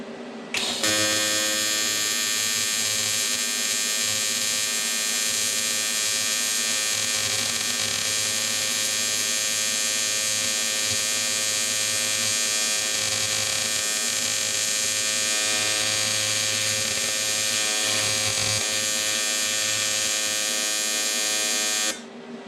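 A weld bead is laid on thick metal, giving a steady, even electric buzz with a humming tone that holds unbroken for about twenty seconds before stopping.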